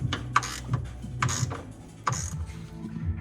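A cut-down, half-length wrench tightening a motor mount bolt on a salvage Nissan 350z drift project car: a few quiet, sharp metallic clicks and scrapes close by, with no talking.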